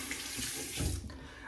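Water runs steadily from a tap into a tub while suds are rinsed away, a continuous close hiss and splash that briefly deepens as the flow is disturbed.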